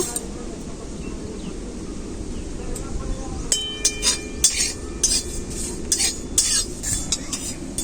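Fennel seeds and torn bay leaves dry-roast in a hot, dry wok, with a soft background hiss giving way to repeated metallic clinks and scrapes of a spatula in the second half.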